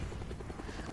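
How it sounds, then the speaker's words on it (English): A helicopter in a video game gives off a steady, rumbling rotor drone, continuous and moderately loud with a faint chop to it. "now I can take that chopper out"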